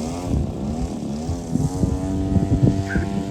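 A Cessna-style RC plane, a 1400mm Arrows Sky Cruiser on its maiden flight, drones steadily at low throttle as it floats in to land, with a constant buzzing motor tone and faint wind.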